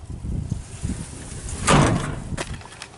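An old pickup truck's door on a Wyoming lot swings with a creak and a clunk near the middle, amid rustling and handling noise close by.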